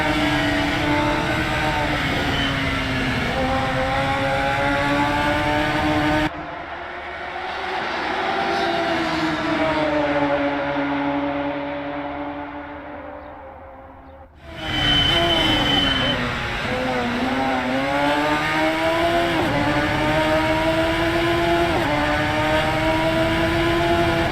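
Radical SR3 XXR race cars in a Radical Cup race at Virginia scream past with high revving engines, pitch sweeping as they pass, loud and close, dipping briefly mid-clip before another car roars back in; a commentator's voice runs over them.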